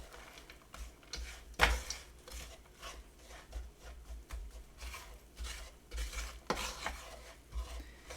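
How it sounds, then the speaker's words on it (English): Chocolate chips are stirred vigorously into a fudge mixture, making soft, irregular scraping and tapping strokes against the pan, quiet and close, with one sharper clink early on. "Stir vigorously until the chips are melted and mixture is completely"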